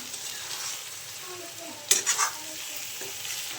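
Garam masala being stirred into frying aloo gobhi matar sabzi, a pan of potato, cauliflower and peas cooked wedding-style; a steady soft sizzle runs throughout, with a brief louder scrape and clatter of the spoon midway.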